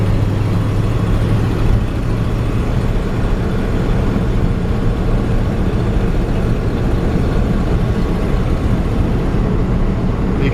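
A 1955 Ford F-100 pickup with a three-speed manual gearbox drives along, its engine a steady low rumble under constant road and wind noise from inside the cab, with no talking.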